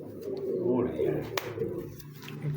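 A Kalu Baloch breed pigeon coos softly in low, rolling notes close by, while people talk over it.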